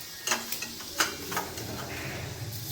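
Spices temper in a pan for an okra curry, a soft low sizzle under a few sharp stirring and utensil clicks, quiet and close, with no voices.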